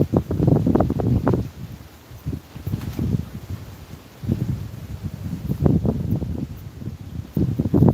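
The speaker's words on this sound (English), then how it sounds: "here comes some wind again" Storm wind gusting outdoors as a cold front moves in, rushing in rough bursts and buffeting the microphone, loud and close, easing briefly in the middle before picking up again.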